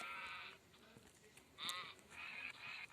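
Several Minecraft sheep bleats sound in quick succession, thin and wavering, with brief gaps between them against a quiet background.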